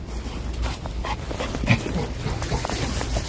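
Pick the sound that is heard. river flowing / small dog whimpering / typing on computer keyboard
small dog whimpering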